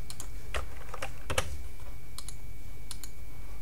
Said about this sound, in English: use the arrow keys on your mouse or on your keyboard in order to move that picture in a very fine grained fashion